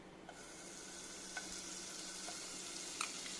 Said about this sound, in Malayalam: ആ സെയിം പാനിലോട്ട് തന്നെ ഞാൻ 2 ടേബിൾ സ്പൂൺ ബട്ടർ ഇടുകയാണ്.